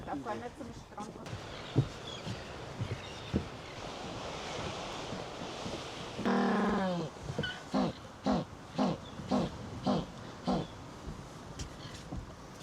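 African penguins bray in a series of loud, rhythmic honking calls from a shaded colony on a hot day, the calls repeating in bursts over wind and surf, with a person talking near the start.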